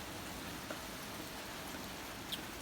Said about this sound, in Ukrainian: зараз у нас і дощ іде